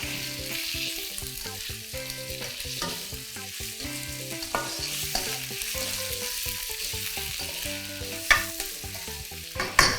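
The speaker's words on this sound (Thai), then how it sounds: "เราก็ใส่หมูสามชั้นลงไปค่ะ ผัดให้หมูพอสุกนะคะ" Pork belly stir-fried with fragrant garlic in a hot pan for Korat-style Isan fried noodles, a steady close sizzle with busy scraping and clattering of a spatula, a few sharper knocks near the end.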